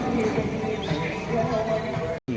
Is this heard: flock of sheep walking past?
yes